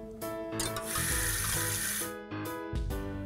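A toy kitchen tap plays a running-water sound effect in short electronic bursts with brief gaps, close and fairly loud, with no voices.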